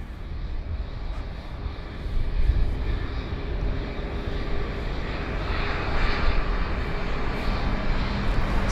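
An Airbus A320ceo airliner taxis close by at Heathrow, its engines holding a steady, moderately loud rumble and whine that swells slightly after a couple of seconds and stays even through the end.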